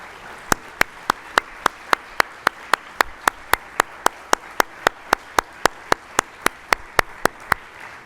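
At a school athletic awards event, the audience applauds student athletes. One loud, close pair of hands claps in a strict, even beat, roughly three claps a second, over a soft, distant wash of crowd applause.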